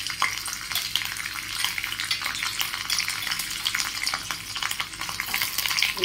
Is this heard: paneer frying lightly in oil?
yes